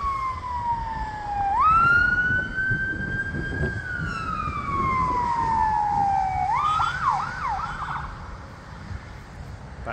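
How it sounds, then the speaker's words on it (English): Wailing siren from an old fire engine, rising and falling in long sweeps and then breaking into a rapid yelp toward the end, loud and close over traffic rumble. "the old fire engine."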